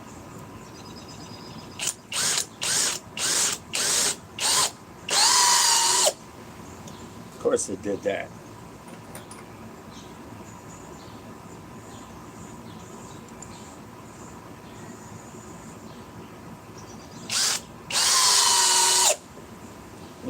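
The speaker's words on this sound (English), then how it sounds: "The Flex Compact Hammer Drill FX 1231." A Flex FX1231 compact cordless hammer drill with a 6 amp stacked lithium battery fires in several short bursts, then two longer runs, loud and close; someone speaks briefly between bursts.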